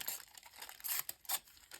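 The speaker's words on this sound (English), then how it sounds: "It's just like a see-through kind of wax paper. I think it's actually wax paper." See-through wax paper handled up close, giving quiet crisp crinkles in short irregular bursts with no talk.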